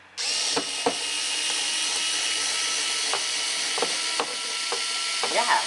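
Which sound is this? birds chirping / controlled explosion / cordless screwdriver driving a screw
cordless screwdriver driving a screw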